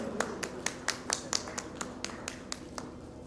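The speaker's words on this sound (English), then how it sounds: "Everyone, let's have a big round of applause for this special occasion, for this special welcome" Sparse applause at an award ceremony honoring a guest: a few hands clapping in a slow, evenly spaced rhythm, faint and somewhat distant over a low room hum.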